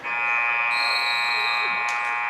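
Buzzer ending the half at a girls' varsity high school basketball game in a gym, a loud sustained electronic blare lasting the whole clip under crowd noise.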